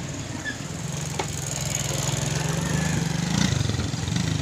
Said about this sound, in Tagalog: may dumaan ang motor mga mads.